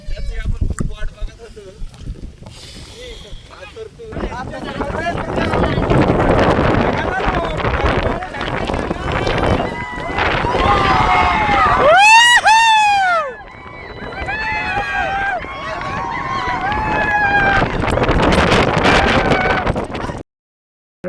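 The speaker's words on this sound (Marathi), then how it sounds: "कसला वारा होता तुम्ही बघितलाच आहात" Strong wind with rain roars and buffets the microphone in loud, sustained gusts at Tiger Point in Lonavala, with voices calling out now and then through the noise.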